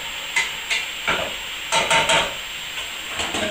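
Collard greens cook in olive oil with garlic and pepper, a soft sizzle under repeated scraping and stirring strokes against the pan, nearby and moderately loud, in irregular bursts.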